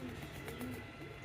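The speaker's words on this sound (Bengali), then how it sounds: "আমাদের এখানে বাঁধা কবুতর পালন করা হচ্ছে" Caged pigeons coo in soft, low throaty calls, faint and nearby, set against a dense hum of background noise over a brief moment.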